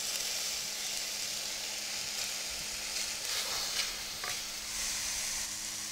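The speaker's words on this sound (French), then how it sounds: "je vais mélanger la pectine, le sucre et les physalis et cuire à peu près pendant 6 à 8 minutes" Ground cherries cook down with sugar and pectin in a pan, giving a continuous soft sizzling bubble with occasional scraping stirs, steady and close throughout.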